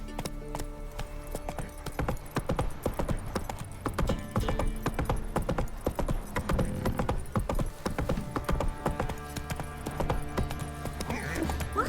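Horse hooves gallop in Witcher 3 with a rapid, continuous clip-clop rhythm, up close and loud over a low ambient hum, with a brief whinny near the end.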